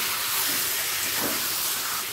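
Chicken dropped into hot oil and butter in a pan, a loud continuous sizzling hiss that fills the whole short stretch with no pauses.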